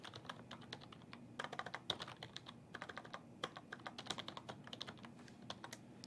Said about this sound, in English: Once again, we have to type the server name out.